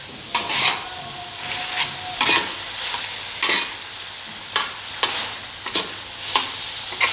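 Liver pieces with crushed green chillies are stirred on a hot tawa, a spatula scraping in repeated bursts over a steady soft sizzle.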